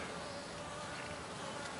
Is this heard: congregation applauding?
no